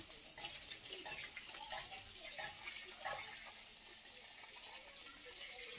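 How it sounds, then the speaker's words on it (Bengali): A garden hose sprays water onto potted aloe vera and hibiscus plants, giving a faint, steady splashing hiss that runs without a break and has no voices over it. "একটা পাইপে জল দেওয়া হচ্ছে"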